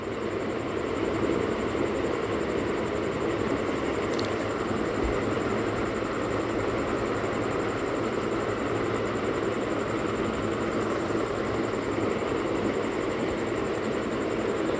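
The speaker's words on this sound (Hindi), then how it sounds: "जैसे हमने निशान बनाया था ना वैसे ही हमको डायरेक्टली घुमाते हुए सिलाई लगाते जाना है" A sewing machine runs steadily for the whole stretch, stitching fabric along a marked curved line in a boutique tailoring lesson, a continuous close, even mechanical whir with no pauses.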